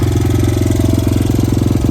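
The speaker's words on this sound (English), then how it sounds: "My exhaust is working. I don't hear any bad leaks anywhere." A Honda XR100 dirt bike engine with a newly installed Honda NSF100 stock exhaust idles steadily and loudly up close, with a rapid, even thumping pulse and no break for the whole stretch.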